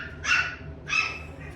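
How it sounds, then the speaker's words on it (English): Puppies, five of them, bark in two short high yapping bursts close by, with a faint third yip at the end over a low indoor background. "please excuse the dogs"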